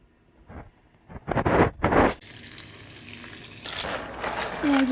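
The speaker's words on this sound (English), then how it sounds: "Now you just want to rinse them a few times and pour off the water until it's not so cloudy anymore." Running water splashes into a bowl of dry chickpeas for rinsing, opening with a few quiet taps and bursts of gushing flow, then a steadier stream filling the bowl, close and fairly loud, with no talking.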